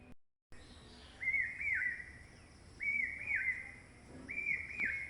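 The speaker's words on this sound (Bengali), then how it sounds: "অনেক সুন্দর পাখির একটা ডাক শোনা যাচ্ছে।" A bird calls outdoors in nature, repeating a clear whistled phrase three times at a steady interval over a quiet, faint background hiss.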